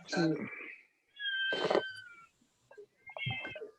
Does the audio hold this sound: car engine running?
no